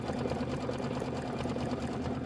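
An embroidery machine stitches green thread with a fast, steady, even whirring buzz, unbroken and close, with no voices.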